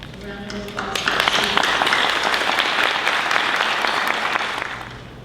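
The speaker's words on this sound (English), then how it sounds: "Round of applause." A crowd at a 2021 senior graduation ceremony breaks into sustained applause that swells quickly and holds steady, with a voice speaking over the start.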